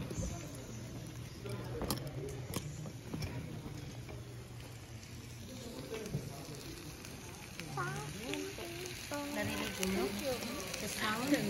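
Food sizzles and bubbles in a hot pot at a dinner table, a soft, crackling boil that runs steadily under chatter and nearby voices.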